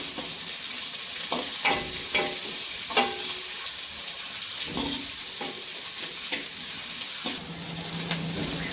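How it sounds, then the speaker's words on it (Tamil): Onions frying in a pan for a cauliflower fry dish, a steady close sizzle with scattered clicks and scrapes from stirring throughout, no talking. "இப்போ நல்ல வெங்காயம் வந்து ஓரளவுக்கு நல்லா ஃப்ரை ஆகிடுச்சிங்க"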